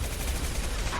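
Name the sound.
impact shot gunfire in Mass Effect 2 video game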